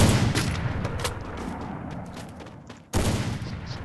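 Gunfire in a shooting video game, a sniper shot amid a run of loud cracks and bursts, dense at first and then thinning, with a sharp new blast near the end.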